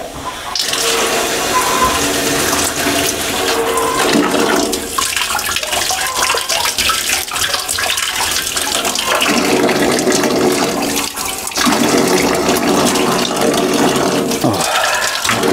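Cold water pours continuously from a tap, a steady loud rush with slight shifts in flow and no voices.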